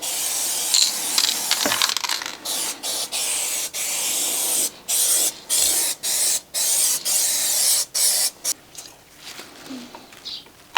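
Aerosol can spraying lanolin protection agent, the kind used on oil rigs under seawater, onto a Citroën BX body, heard as repeated close hissing bursts of varying length separated by short pauses.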